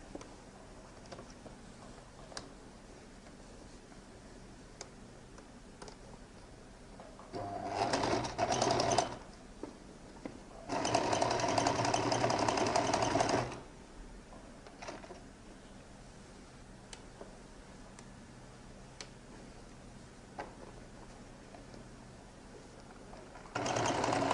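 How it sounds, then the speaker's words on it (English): Sewing machine top stitching the main body of a lady's jacket, two rapid rattling bursts of stitching, a short one and then a longer one, separated by quiet stretches of low room noise. "I'm going to top stitch on the main body here up to that slash there"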